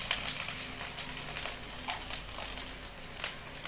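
Cut garlic sizzles in hot oil with mustard seeds for a grape pickle, a steady close crackling hiss with no pauses throughout.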